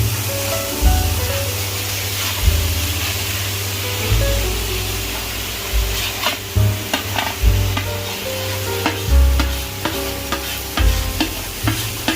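Khoya stirred and frying in a pan, a steady close sizzle with repeated scraping and stirring strokes, no talking.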